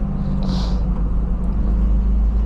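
A 2001 Toyota MR2 Spyder with its mid-mounted engine pulls away from a stop, a steady low engine drone and road rumble running continuously and close throughout.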